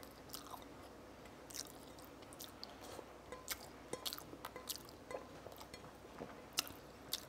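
Someone chews a fried egg with chili oil and tofu close to the mic, giving soft, wet, irregular bites and squishes with small crunchy clicks at low volume.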